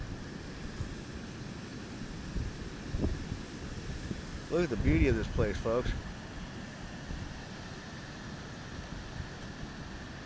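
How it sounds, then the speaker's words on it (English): Steady roar of ocean surf and gusting wind at an open coastline, continuous and broadband throughout, with someone speaking briefly partway through. "The ocean, the roar of the ocean, and the beautiful sound of the wind."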